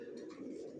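Racer pigeons coo softly and continuously inside a loft, a low murmuring purr heard faintly at a distance.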